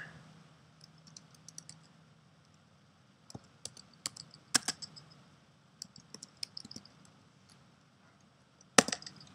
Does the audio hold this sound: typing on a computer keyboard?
yes